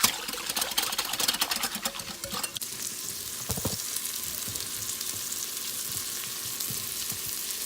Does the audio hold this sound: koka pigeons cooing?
no